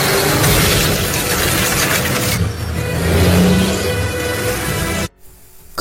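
A log-hauling truck's engine roars and revs as it speeds away in a film chase, loud and steady with a rising surge midway before cutting off abruptly near the end.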